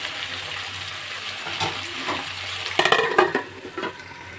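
Salted vegetables stirred as they fry in a pan for chow mein, with steady sizzling and a few louder scraping stirs near the end, close and without talk.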